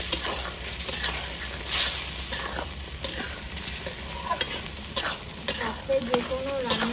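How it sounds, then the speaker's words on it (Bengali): Potatoes sautéed in a fish curry gravy, a close sizzle under repeated scraping and clattering stirs of a spatula against the pan, with some background noise. "2-3 মিনিট আমি গ্রেভিটার সঙ্গে কষে নেবো"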